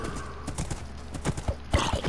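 Minecraft horse: a quick run of clip-clopping hooves, close and distinct, followed by a short whinny near the end, with faint background noise.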